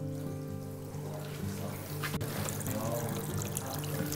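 Water flows through a model river table, cutting under a bank beside a toy house as the volume is increased; a steady trickling pour rises in intensity and continues close and constant.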